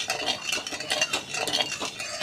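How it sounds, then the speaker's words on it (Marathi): Sugar being stirred into syrup in a pan for kaju katli, a steady scraping and swishing with light metallic clinks of the spoon, close and continuous, no voices. "साखर अशीच आपण याच्यामध्ये विरघळेपर्यंत हलवून घेणार आहोत"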